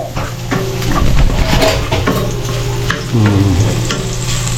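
Food frying in a pan until golden brown, a loud, close, continuous sizzle with crackling spits and intermittent stirring scrapes throughout.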